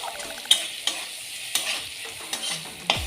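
Lentil dal base is stir-fried with turmeric in a pan for a sour dal, a constant close sizzle broken by six or seven sharp spatula scrapes and knocks at an uneven rhythm, no talking.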